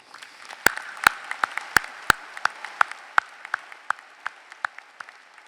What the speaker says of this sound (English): So faculty, would you please stand and let's give you a round of applause